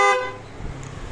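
A Honda Giorno scooter horn gives one short, loud beep at the very start, then cuts off into low, quiet background rumble.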